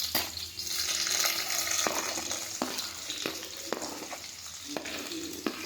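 Onions dropped into hot oil in a pan for dhaba-style chicken curry, a steady crackling sizzle with repeated sharp stirring clinks and scrapes, close and moderately loud.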